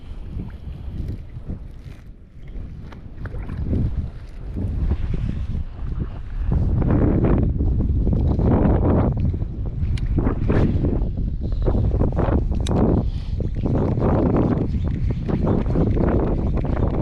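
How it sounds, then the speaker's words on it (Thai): Strong wind buffets the microphone during a rainstorm on a shore while fishing, a loud continuous rumbling roar that swells and stays dense throughout with no voices. "ทั้งลมทั้งฝน"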